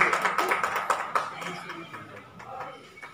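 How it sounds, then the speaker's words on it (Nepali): An audience claps to welcome a guest onto the stage at a music event in Darjeeling. The applause is moderate and fades over a few seconds, with voices murmuring underneath. "जोरदार तालीले उहाँलाई स्वागत जनाइदिने।"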